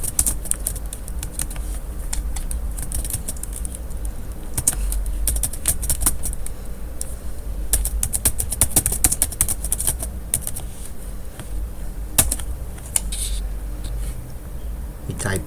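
Rapid, uneven keystrokes on a computer keyboard as a command is typed into a Linux Mint system, clicking steadily at close range over a low background hum with occasional louder key strikes.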